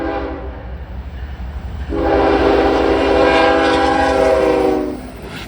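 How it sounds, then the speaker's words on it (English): Westbound tank train led by a Kansas City Southern AC-44 locomotive running as foreign power rolls past, a loud sustained horn blast over steady rumbling wheels, with no talk. "westbound, this time tank load rolling west, with a KCS AC-44 second out as foreign power."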